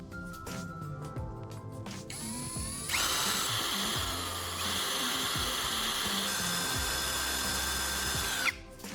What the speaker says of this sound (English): Next, I drilled a hole in the center of the 2 caps.